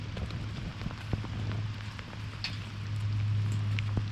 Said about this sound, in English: Wish this rain stopped, but I don't think it's gonna stop it at all.